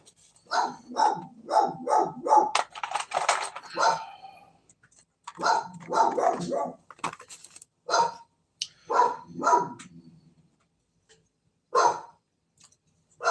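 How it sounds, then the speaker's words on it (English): Close dog barking comes in rapid clusters of sharp barks and yips, separated by brief silences, loud and agitated, with only faint traces of a voice. "now you can hear my dog going crazy."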